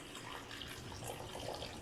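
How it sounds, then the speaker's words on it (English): Starter water pours into an empty bowl during a church water communion service, a faint, steady splashing trickle lasting the whole short moment. "I'm going to pour our water, our starter water, into this empty bowl"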